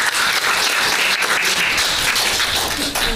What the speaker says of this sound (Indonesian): Tepuk tangan dong untuk Gaby.